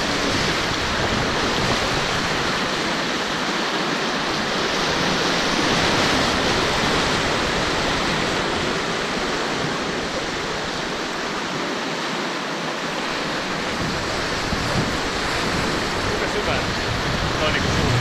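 Aallokkokoski rapids on the Kitka River roar loudly and steadily as a broad, unbroken rush of whitewater, close by and constant throughout.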